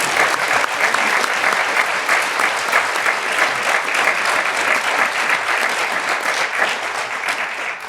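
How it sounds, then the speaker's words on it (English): Sustained audience applause fills a geothermal conference hall in Iceland, a dense, steady wash of many hands clapping at even loudness for the full length, with no voices rising above it. "A round of applause."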